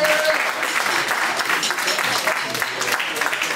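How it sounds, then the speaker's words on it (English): Steady, dense applause fills the hall at an MLK celebration with a live band present, continuous and fairly loud for the whole few seconds, with faint voices mixed in. "Give them another round of applause."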